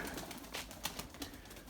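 Soft coos of Erzurum White pigeons murmur repeatedly over a faint, hissy background, quiet and close, with no talking.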